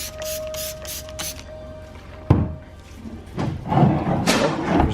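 Several short hissing bursts of water from a spray bottle onto a sanding pad and car headlight at the start, then a sharp knock and some rustling handling noise.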